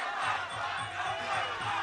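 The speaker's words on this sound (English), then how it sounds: "There's a lot of cheering for Yodson Clyde as well" A loud crowd roars steadily through a Muay Thai bout between Jon Wayne Parr and Yodsanklai, with dense, sustained cheering over a rhythmic low thumping pulse.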